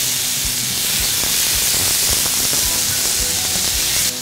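Zucchini stir-fries over high heat in a pan, giving a loud, steady sizzling hiss that fills the whole stretch without letting up.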